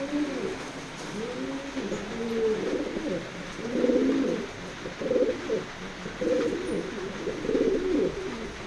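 Several racing pigeons coo together, including a red-eyed hen in a pair, giving a dense overlapping stream of low rolling calls that swells and dips, with steady background hiss.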